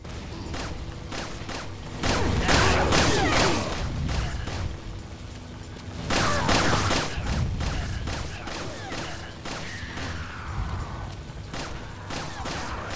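Repeated pistol shots in Resident Evil 4, with bursts of gunfire and impacts clustered around two and six seconds among game mechanism noise and a steady background ambience, and no talking.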